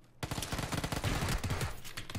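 Gunfire in the battle royale game PUBG: a rapid, continuous burst of automatic shots, dense and fairly faint, running for about two seconds after a brief quiet start.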